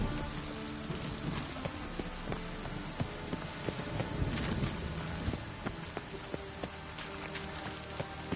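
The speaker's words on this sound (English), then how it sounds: "It's raining." Steady rain falls in The Witcher 3: Wild Hunt, a continuous soft patter with scattered drips, fairly quiet and even throughout, with no voices over it.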